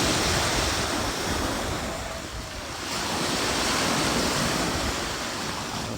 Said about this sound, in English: Blue ocean today.